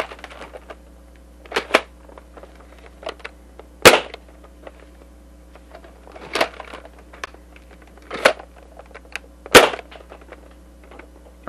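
Foam darts fired one at a time from a TOMCAT Dart Zone Max blaster, several sharp cracks spaced a couple of seconds apart over a quiet, faintly humming room.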